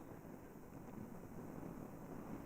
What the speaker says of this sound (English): you might hear a little bit of wind